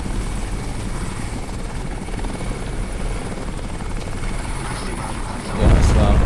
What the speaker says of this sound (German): weil dieser Helikopter bringt mich sonst um